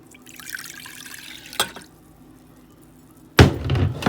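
Water is poured into a saucepan already holding lemon juice, dill and cinnamon: a loud, rushing splash near the end follows quieter kitchen background and a brief knock.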